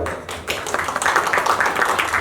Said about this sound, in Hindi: उनके लिए जरा तालियां बजाओ यार।